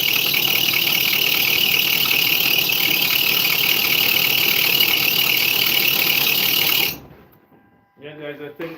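An idling Kia Soul engine runs close and loud with a steady broadband hum and a high whine on top for about seven seconds, then cuts away to near quiet and brief faint speech.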